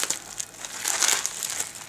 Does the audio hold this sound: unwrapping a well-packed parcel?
yes